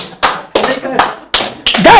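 Hard hand clapping during a sermon: five loud, sharp claps in uneven rhythm, each ringing briefly in a reverberant room, with a voice talking over the last ones.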